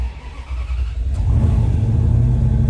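A turbocharged V8 police car engine revs up and pulls away, a deep, loud rumble building steadily from a quieter idle into sustained acceleration, with no voices.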